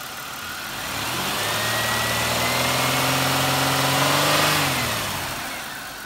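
A 1999 Buick Regal LS with a 3.8-liter six-cylinder engine idles, then revs up smoothly, holds, and settles back down, a steady close mid-pitched hum with no talking.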